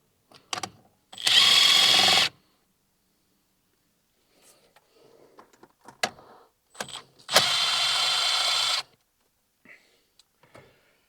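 Power tool whirring in two bursts, each about a second long, as the 7mm bolts holding the driver's airbag are backed out on a second-generation Ford Ranger. Quiet handling and clinking come between and after the bursts, with no talk.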